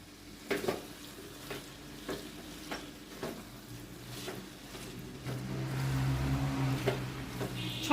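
Cabbage curry with ghee and garam masala stirred in a pan, a steady low sizzle under repeated scraping strokes of a spoon, growing a little fuller toward the end.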